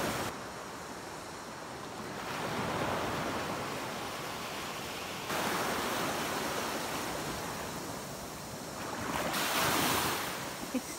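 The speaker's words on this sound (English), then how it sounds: "Difficult job going over them waves." Choppy sea waves roll and crash with steady gusting wind buffeting the microphone, a broad continuous roar that swells in several surges.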